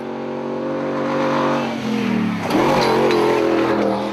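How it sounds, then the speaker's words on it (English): Heavy 5-litre V8 4WD truck in an off-road winch truck challenge stage, engine revving loud and sustained as it charges over a jump, the pitch dipping and then climbing again without easing off. "I guess that 5-litre V8 really does sing along nicely"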